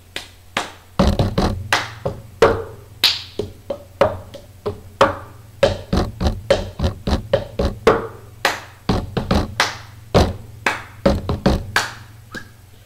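Cup percussion with hand claps: a fast rhythmic run of hard taps, thunks and claps played on cups against a tabletop, evenly paced beats repeating close and crisp over a steady low hum.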